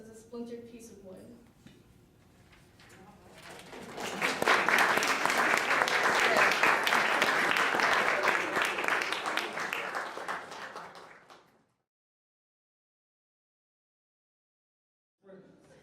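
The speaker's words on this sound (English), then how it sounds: "let's give a round of applause for Liam Kerwin from the Browning School" Audience applause at a high school poetry reading in New York, starting faintly, swelling into sustained dense clapping for several seconds, then cutting off into silence.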